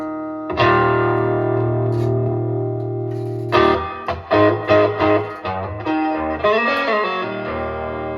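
Electric guitar played through a Line 6 Spider IV amp with reverb: a sustained ringing chord followed by a run of picked notes and bends, loud and close.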